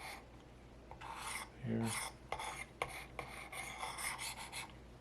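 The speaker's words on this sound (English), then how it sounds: "before I switch stones, I like to just take the burr off" The blade of a 2014 Buck Bantam knife is stroked across a 320-grit sharpening stone to remove the burr, a quiet series of short rasping scrapes in quick succession.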